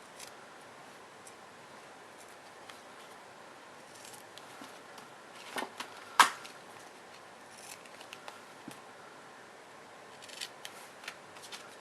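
Scissors snip excess duct tape on a wallet project: quiet rustling and handling, a sharp cut near the middle, and a few lighter snips and ticks, close and with no talk.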